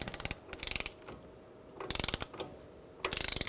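A hand ratchet tightening the front axle nut on a 2000-2007 Ford Taurus, three bursts of rapid close clicking separated by short pauses, with no voices.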